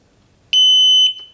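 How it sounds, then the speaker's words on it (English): A Kovix KNX10 10mm alarmed disc lock gives a single loud, piercing electronic beep about half a second long as it is armed, followed by a faint tail. "to arm it, single beep, turn the key to lock"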